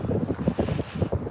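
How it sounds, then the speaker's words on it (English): Strong outdoor wind buffeting a microphone, loud low rumbling gusts that pulse unevenly and sit right against the mic with no voices. "Oh, the wind is like terrible here though."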